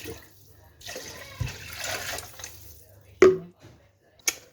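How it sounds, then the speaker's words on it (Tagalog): Water is poured into a pot of tinola simmering with ginger, chili and potato juice: a brief splashy pour, then a couple of sharp clanks against the pot, with faint voices nearby. "Dagdagan na natin ng tubig."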